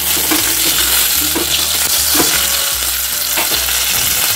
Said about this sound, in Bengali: আর এই যে ডাল সেদ্ধ হয়েছে কেবল, এখন তেলে দেবো।